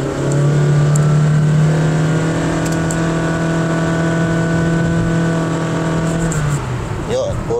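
A 2023 Honda BR-V 1.5 S with a CVT accelerates in normal mode, its engine holding a loud, steady drone at a nearly constant pitch for several seconds before easing off near the end.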